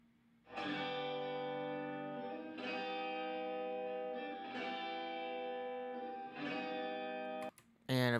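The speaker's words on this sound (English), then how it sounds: "We've also got the echo section." A sustained guitar chord with a tape echo effect, repeating about every two seconds with a decaying tail, from a 1960s Abbey Road-style mix. It ends abruptly in a brief burst of noise.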